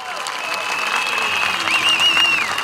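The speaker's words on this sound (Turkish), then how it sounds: "Hepsine bir alkış, örgütümüze bir alkış." Crowd applause and cheering at an outdoor CHP political rally in Gaziosmanpaşa, a steady, loud wash of clapping from a large gathering, with a whistle-like tone rising above it.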